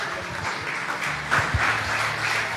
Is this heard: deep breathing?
no